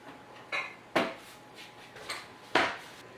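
A microwave-proof bowl is pulled from a kitchen cupboard while baking almond flour muffins, with a handful of sharp clinks and knocks of crockery and wood spaced unevenly, close and fairly crisp, with no talking.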